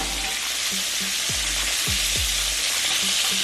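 Catfish frying Jamaican style in hot oil, a steady loud sizzle throughout with a few brief scraping stirs and turning sounds over the constant crackle.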